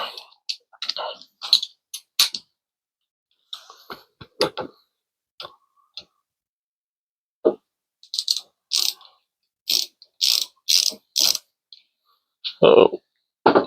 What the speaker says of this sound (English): Let me find a torque wrench here for this quick.